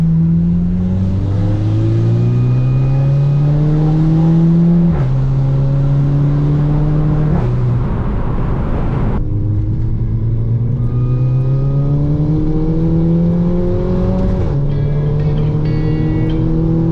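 A Stage 2 tuned VW Golf GTI accelerates hard along back roads, its engine note climbing through the revs in loud, close pulls, broken by quick gear shifts, for a continuous run with no voices.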